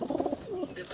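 Short-sized Madras pigeons in a loft give a brief burst of low, throaty cooing, a few quick pulses that fade into quieter background murmur.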